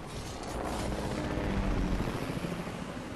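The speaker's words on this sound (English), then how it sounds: "if you hit me with that chopper" A helicopter in the Fortnite video game, a steady, heavy, rumbling rotor drone that stays loud throughout with no talking.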